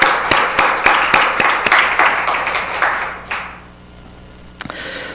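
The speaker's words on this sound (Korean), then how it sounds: "우리 한번 박수 한번 보낼까요? 성령 박수." A church congregation claps together during a Korean worship service, loud and rhythmic for about three seconds before fading into quiet room tone, with one sharp clap near the end.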